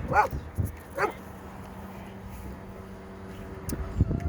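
A dog lets out a few short, sharp barks and yips at passing dogs, spaced apart with quiet gaps between them, over a low steady background hum.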